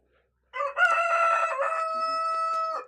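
A rooster crows once in a long, loud, drawn-out cock-a-doodle-doo, close by and alone against a silent background.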